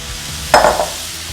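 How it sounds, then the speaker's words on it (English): Hash browns hit a hot Blackstone griddle with a sudden close burst of sizzle and scraping that quickly fades to a low hiss, with no talking. "we're going to add our hash browns right to the middle of the griddle, where it's hottest"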